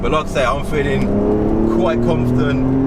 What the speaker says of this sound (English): You can hear the engine is obviously behind me right here